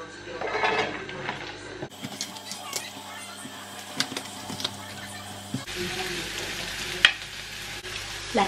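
A mini stir fry with soy sauce sizzles and crackles in a hot pan, with occasional scraping of a utensil stirring it and soft clinks of cookware.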